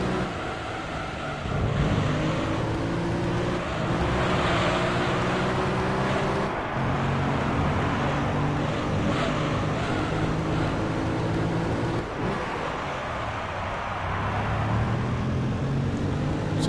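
Angry V8 race car engine in the video game Gran Turismo 3 A-Spec, a loud, sustained roar that climbs through repeated upshifts, rising pitch and dropping back, racing through corners without a break.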